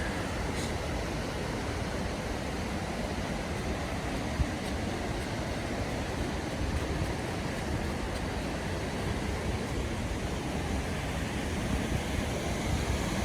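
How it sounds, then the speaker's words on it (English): Steelhead waterfall in the Deschutes Canyon, a five-armed falls heard as a steady, dense roar of rushing water, constant and broad without pauses or voices. "We are looking down at the Steelhead waterfall."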